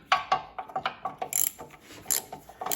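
Ratchet wrench clicking in quick bursts while unbolting the fuel tank on a Massey 35 tractor with a Continental Z134 engine, close and fairly loud with short pauses between strokes.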